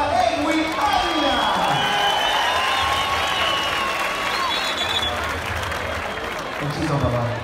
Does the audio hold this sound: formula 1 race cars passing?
no